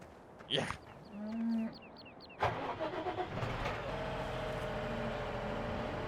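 A tractor engine in Farming Simulator 17 cranks and starts after a few short mechanical beeps and clunks, then settles into a steady, moderately loud idle rumble that continues to the end.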